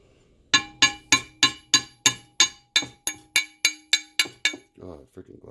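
Glassy brazing flux being chipped off a brazed metal countershaft hanger for an Atlas 10-D lathe, heard as about twelve sharp ringing metallic taps in an even rhythm, close and loud, followed by a softer rustle.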